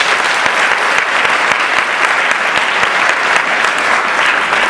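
An audience at a college talk breaks into loud, sustained applause, dense clapping from many hands that stays steady and close for the whole stretch.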